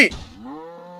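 A cow lowing in Deer Simulator, one drawn-out, fairly loud moo with a wavering tone after a brief burst of noise at the start.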